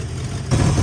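A brief burst of a rumbling V8 engine idling slightly low nearby, low and steady, growing slightly louder partway through.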